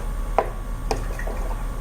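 Paintbrush rinsed in a can of dirty water while setting up for acrylic painting: a few brief, soft liquid sloshes and drips, close by, about three small splashy bursts with quiet gaps between them, no talking.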